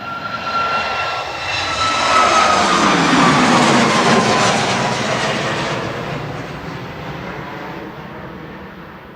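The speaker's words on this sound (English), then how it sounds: "So Max 8 departing with flight 1593" A Boeing 737 Max 8 jet departs Manchester Airport for Cologne, its engine roar swelling loud as it passes nearby with a falling pitch sweep, then gradually fading into the distance.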